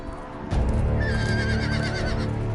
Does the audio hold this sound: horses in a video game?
yes